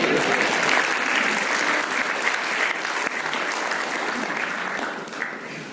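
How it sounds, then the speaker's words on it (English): Dense, sustained applause from the audience at a King's College Māori and Pasifika whānau hui, steady and fairly loud throughout with no talking, tapering only slightly toward the end. "Round of applause."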